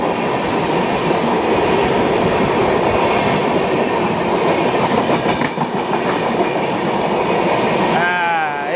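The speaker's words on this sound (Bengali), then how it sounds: "হ্যাঁ, এই হচ্ছে অ্যাক্সেলারেশন ওয়েব 7।" A Howrah–NJP Shatabdi Express hauled by a WAP-7 locomotive picks up speed with loud, continuous rail rumble and rhythmic clickety-clack, heard from on board, ending with a rising squeal of wheels near the close.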